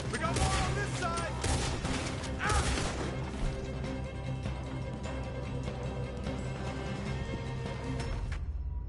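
Dense gunfire from a shootout in Red Dead Redemption 2, with rapid overlapping shots and crashes loud throughout, mixed with music and voices shouting over the battle.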